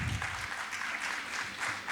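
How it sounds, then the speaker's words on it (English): Audience at a business excellence award ceremony applauding, a dense, steady wash of many hands clapping together at moderate distance for a couple of seconds. "Can we have a huge round of applause for them?"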